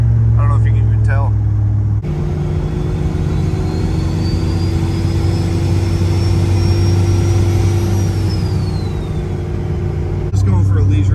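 A Jeep fitted with a Supra engine and a big turbo climbing a hill, engine droning loud and steady with a rising then falling whine, briefly interrupted by short gaps where talk is heard.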